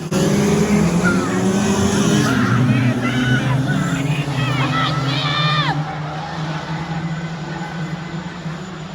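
Stock cars roar together on a rolling restart, a loud sustained engine drone with rising and falling pitch sweeps as cars accelerate, layered with crowd noise throughout.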